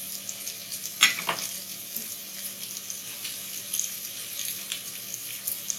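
Sautéed mixed vegetables with chili and sambar powder stirred in a pan for South Indian sambar, a soft steady sizzle with occasional scraping clinks of the spoon, close and fairly quiet.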